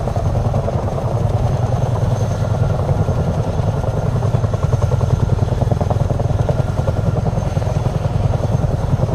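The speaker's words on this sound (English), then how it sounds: "I do like this helicopter." Helicopter rotor and engine drone from a video game, a steady loud whir and thrum sustained throughout while flying along the side of a mountain, with no talk over it.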